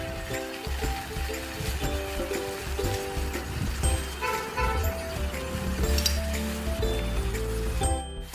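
Softened onions sizzling in a pan as soy sauce is poured in for gobi manchurian, a steady close frying hiss with faint clinks and bubbling, no voice.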